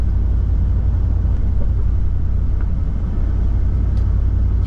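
A Chevrolet Silverado pickup drives along the road with a deep, continuous engine and road rumble, steady and loud throughout the cabin with no breaks or voices.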